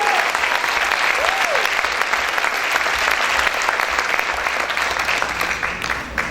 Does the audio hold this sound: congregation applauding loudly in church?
yes